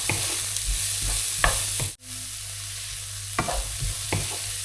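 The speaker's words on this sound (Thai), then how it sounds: "หัวหอมนะคะลงไปผัดค่ะ ผัดให้หอมสุกนะคะ" Onions stir-frying in a pan, a loud steady sizzle with several stirring scrapes and a short dip near the middle, no voices.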